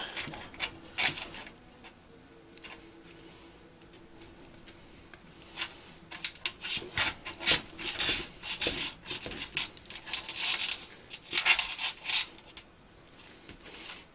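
Wires being worked slowly through a rubber grommet on a Penguin engine housing during reassembly, giving close, irregular scraping, squeaking and ticking rubs that grow busier and louder toward the end.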